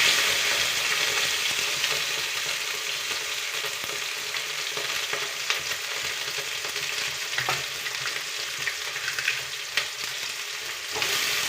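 Onions sizzle in hot oil with curry leaves and cumin seeds while a snake gourd palya is cooked, a steady close crackling hiss with occasional stirring scrapes and no voices.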